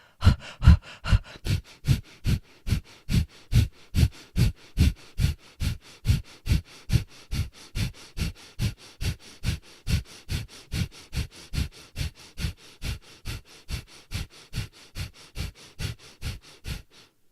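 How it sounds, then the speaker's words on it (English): Breath of fire yoga breathing: a long, even train of sharp, forceful nasal exhales, close and loud at first and then slightly softer, repeated about twice a second with no talking. "Take a deep breath in and exhale it hard."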